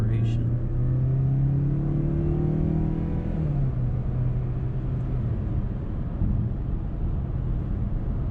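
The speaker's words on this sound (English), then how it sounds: "Get another nice little acceleration." A 2019 Mazda CX-5 Grand Touring with its 2.5-liter four-cylinder engine pulls through a steady acceleration, the engine note holding a low drone that shifts down as it changes gear partway through, with a continuous road rumble underneath.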